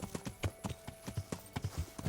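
Horse hooves galloping at full speed in Kingdom Come: Deliverance, a steady rapid clip-clop rhythm of thudding beats, close and clear with no talking.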